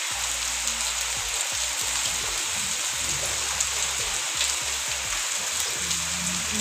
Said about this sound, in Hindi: कितनी मोटी बारिश आ रही है